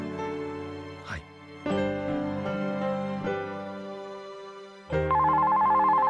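A telephone rings in a visual novel game, a bright repeated bell tone in several bursts with short pauses between them, moderately loud and heard alone.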